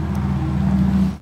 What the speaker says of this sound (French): on peut booster le bruit qui a été particulièrement travaillé pour